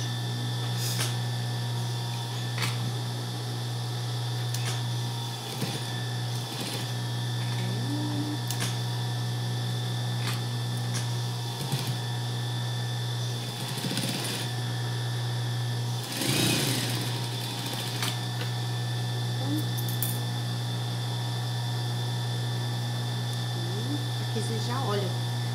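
A sewing machine stitches the seams of a pair of shorts, humming in a steady, close drone for a long stretch, with occasional clicks and faint voices in the background.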